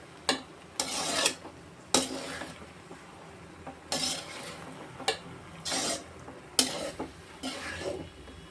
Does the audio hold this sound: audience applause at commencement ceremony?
no